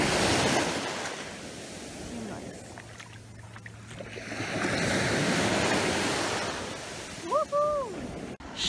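Sea waves wash up on a beach on a summer holiday, a broad surging roar that swells and recedes under wind noise, with brief voices and a short whistle-like call near the end.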